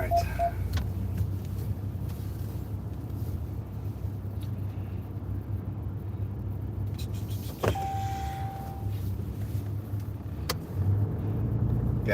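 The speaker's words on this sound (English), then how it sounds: "It's a 1 minute car ride." Car driving on a short one-minute trip, a steady low engine and road rumble inside the cabin with a few faint clicks and a brief tone.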